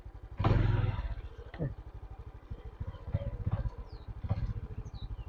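A motorcycle engine revs hard and roars as it lifts into a wheelie, with loud bursts of throttle rising and falling nearby while people talk over the engine noise.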